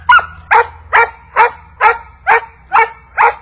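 A herding-breed puppy in protection training barks eight times in an even, rapid rhythm, each bark close and loud, with short quiet gaps between them.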